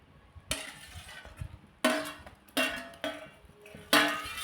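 A metal pot lid is lifted and set down while prawn curry cooks, giving several sharp clanks and clinks at irregular intervals over a quiet background.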